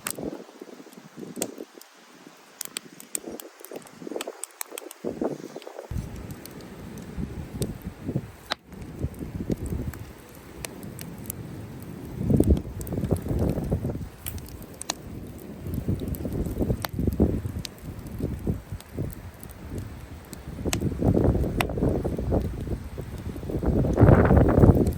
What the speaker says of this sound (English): Wind's kind of picked up a little bit.